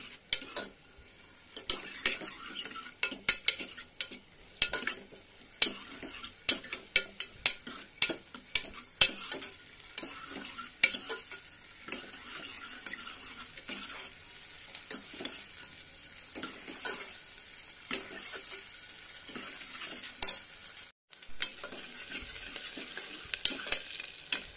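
Onions fry and sizzle in a kadai for a mutton head curry, stirred with frequent quick metal scrapes and taps against the pan over a constant close hiss.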